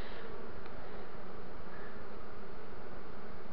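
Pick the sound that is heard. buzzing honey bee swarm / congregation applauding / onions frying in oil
buzzing honey bee swarm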